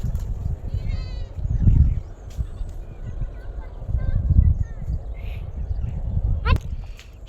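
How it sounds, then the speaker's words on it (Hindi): Goats being herded back home after grazing bleat repeatedly, several calls near and far, mixed with shuffling hooves and rustling outdoors; someone talks over them. "यहाँ देखो वज़ीर जो है ना, वज़ीर ने जो है ना बकरियाँ जो है ये चरा के वापस लेके आ रहा है बकरियाँ।"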